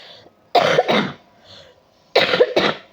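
A woman with a cold coughs in two close pairs of harsh, throaty bursts separated by a quiet pause, near and loud, with no talk over them.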